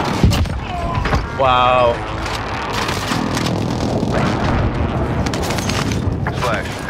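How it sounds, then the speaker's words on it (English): Booming explosions from an airstrike in the Warzone video game rumble heavily throughout, broad and loud, with a short tonal beep partway through and a voice briefly exclaiming over the blasts. "Calling for airstrike on my target."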